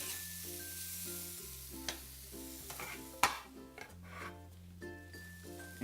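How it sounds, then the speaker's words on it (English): Cumin seeds and black pepper are stirred and toasted in a hot pan, a soft steady sizzle with occasional scrapes and taps from the utensil against the pan, under a faint sustained tonal background. "Stir it around, and we want to toast that cumin seed just a little bit."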